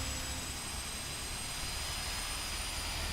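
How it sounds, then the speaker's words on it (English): A PMDG 777-300ER jet engine spooling up in the MSFS 2020 flight simulator at San Francisco, heard as a steady broadband roar with a faint high whine running continuously throughout, no talk. "You can hear the engine start up."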